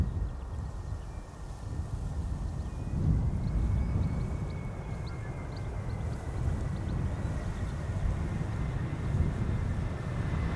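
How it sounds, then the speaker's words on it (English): A 21-year-old airliner that has just landed at Amsterdam Schiphol briefly spools up its thrust reversers. A deep, steady roar rumbles at a distance and swells slightly for a moment before settling into a continuous drone. "Only briefly did they spool up the reversers."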